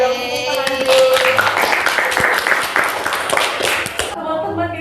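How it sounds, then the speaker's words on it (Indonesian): An audience claps in a burst of applause at the close of a games segment on an Indonesian talk podcast, dense rapid claps mixed with voices and a tone, fading out near the end. "Boleh dong tepuk tangan dulu."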